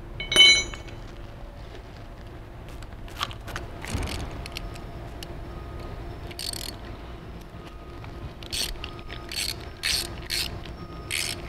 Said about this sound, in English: You want to remove the pipe plug and the relief valve on both sides of the seal cover.